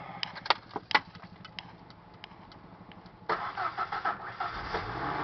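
A 1993 Ford Ranger 2.3 cranks with uneven, stumbling chugs, then catches and settles into a steady idle with a slight early misfire; no one speaks.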